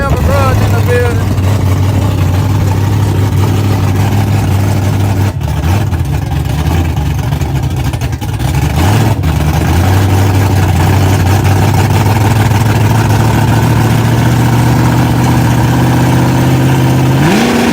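A Ford Mustang engine idles loudly and close with a steady low burble, its pitch dipping and rising briefly as it is blipped, at a hood track racing night; people talk faintly under it.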